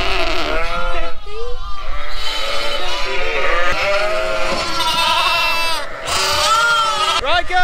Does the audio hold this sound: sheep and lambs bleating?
yes